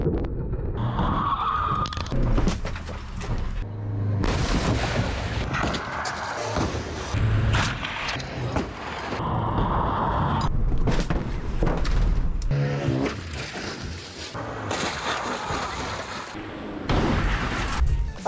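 Cars are smashed during stunt crash work, with repeated heavy impacts, thuds, skids and engine roars in a loud, continuous, chaotic sequence.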